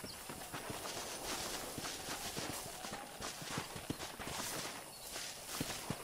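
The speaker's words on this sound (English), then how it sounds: "No, get out of here, horsey." Horse hooves clip-clopping in the Western video game Red Dead Redemption on PS3, a steady walking rhythm of soft thuds running throughout under a broad hiss of game ambience.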